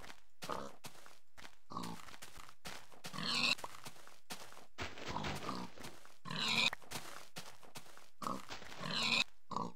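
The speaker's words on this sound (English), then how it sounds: "Oh my god, there's so many pigs." Several pigs grunt and oink in a blocky sandbox survival game, in repeated short bursts with brief gaps between them, fairly close and clear, with no talk over them.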